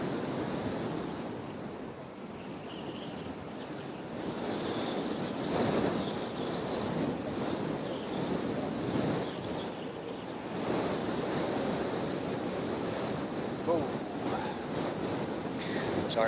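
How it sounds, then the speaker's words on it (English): Strong gusty wind buffets the microphone at Christchurch airport, a steady roaring rush with surging gusts throughout, and faint aircraft and surf-like noise underneath. "Sorry guys, this wind is getting silly."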